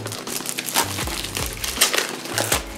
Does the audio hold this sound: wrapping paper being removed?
yes